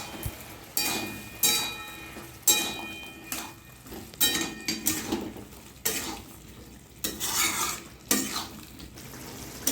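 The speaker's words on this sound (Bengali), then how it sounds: "নেড়ে দেবো।" A spatula stirs boiled potatoes with poppy-seed paste and raw mustard oil in a pan, producing repeated close scraping and clattering strokes in irregular bursts over a light frying sizzle.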